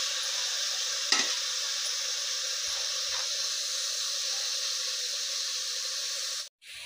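Carrots sautéing in ghee for gajar halwa, a steady close sizzle with occasional stirring scrapes of a spoon in the pan, no talking.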